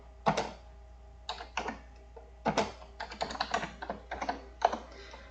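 Python code being typed on a computer keyboard in uneven bursts of close, crisp keystrokes, with short pauses between clusters and no talking.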